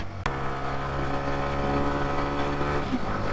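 Motorcycle engine pushed hard in second gear on a hilly road, a steady harmonic drone that holds close and loud after a brief click at the start, with no talk over it.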